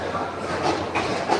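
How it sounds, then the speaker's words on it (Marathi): A train travels toward Mumbai, its carriages giving a continuous rumbling roll with faint rhythmic wheel clatter, close and steady throughout. "आणि बघा आपली ट्रेन चाललेली आहे मुंबईच्या दिशेने"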